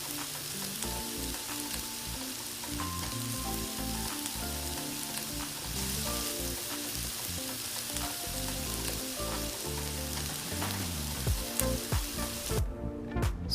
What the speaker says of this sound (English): go ahead and form your patties and throw those on the stove